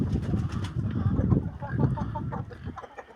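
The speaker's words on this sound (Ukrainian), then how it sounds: "Такі у мене голуби." Pigeons coo and flutter close by, a busy mix of soft cooing calls and rustling with no one speaking.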